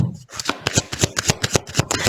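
Tarot cards shuffled by hand in a quick, steady run of crisp snaps, close and clear, with no talk over them.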